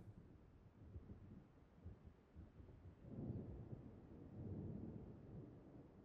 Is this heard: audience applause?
no